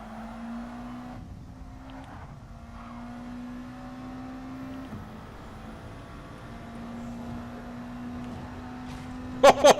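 A race car in a racing video game, its engine holding a steady droning note with brief throttle changes, fairly faint, under intermittent background noise with a couple of sharp clicks at the end.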